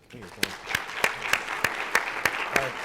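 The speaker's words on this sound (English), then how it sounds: "So round of applause." Scattered clapping from a small conference audience, sharp irregular claps building into steady applause, with a voice briefly audible near the start.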